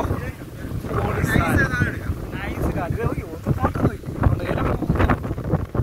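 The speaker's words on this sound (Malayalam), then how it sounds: "നല്ല കാറ്റാണ്." Strong gusty wind on the rocky hilltop of Illikkal Kallu in Kottayam, Kerala buffets a nearby microphone in uneven rushes, with faint voice-like sounds mixed into the roar.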